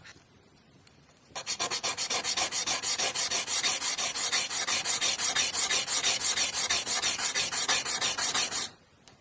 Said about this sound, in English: We can continue by sanding down the bottom of the bezel and soldering it on to a back plate.